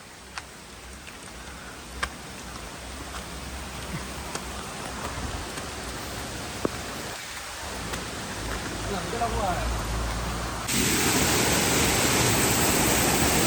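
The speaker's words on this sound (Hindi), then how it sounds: "बहुत जोर से बारिश हो रहा है, तेजी से बारिश हो रहा है" Heavy rain pouring in a forest near a forest department camp, a steady broadband wash that swells louder toward the end, with faint voices underneath.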